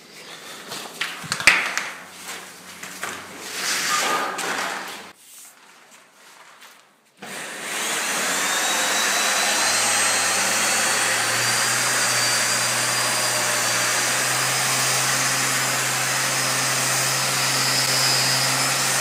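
An electric sander works on wood with a vacuum dust extractor attached, heard first as scraping and rubbing bursts, then a short pause, followed by a loud steady motor and suction hum that continues to the end, with no talk.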